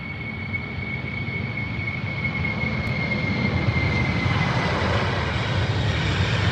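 An aircraft departing Heathrow produces a loud, continuous engine roar with a thin high whine running through it, steady and close for the whole stretch.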